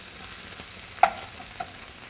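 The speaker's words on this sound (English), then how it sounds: "Saute that." Diced cilantro sautéing in a pan for butter chicken, a soft steady sizzle with a sharp utensil clink near the middle and a lighter tap after, no talking.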